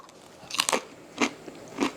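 Crisp bites into freeze-dried wild pear slices, three sharp crunches close to the mic at roughly even intervals, each a short crackling burst with no talking.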